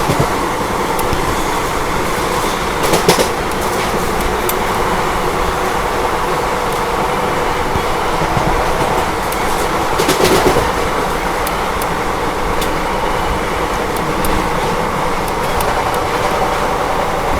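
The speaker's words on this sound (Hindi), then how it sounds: "देखो असौटी रेलवे स्टेशन स्किप मार रही है अपनी ट्रेन" Steady rumble and rattle heard from aboard a passenger train running at a constant 110 km/h through Asaoti station without stopping, a continuous loud roar with faint rail clicks.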